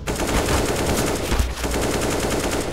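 Rapid automatic gunfire from a competitive online shooter match, bursts running continuously and loud through the whole stretch with a brief dip midway, no talk over it.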